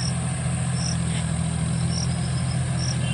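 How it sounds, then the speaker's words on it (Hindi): A John Deere 5050D tractor pulls a rotavator through a waterlogged field in low second gear, giving a steady, unbroken engine drone. Crickets chirp faintly in the background. "ये जॉन डियर का 50-50 डी ट्रैक्टर है"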